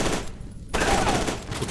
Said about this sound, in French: Je suis pas convaincu du fusil à pompe là.